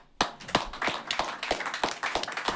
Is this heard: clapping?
yes